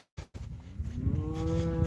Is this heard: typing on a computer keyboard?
no